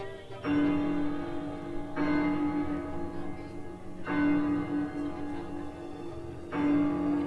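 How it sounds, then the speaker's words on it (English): A large bell at the Dark Universe area of the Epic Universe theme park tolls four times in slow succession, each strike ringing out loud and sustained with a long decaying hum before the next. "they say that the bell rings, it means that monsters are about."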